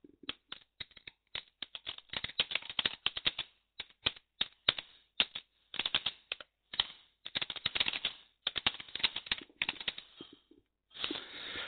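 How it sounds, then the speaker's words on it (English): Fingers type a message on a computer keyboard in irregular bursts of close, crisp keystrokes with short pauses between runs, during a ZBrush sculpting session; no one speaks. "I better type a message while I'm talking"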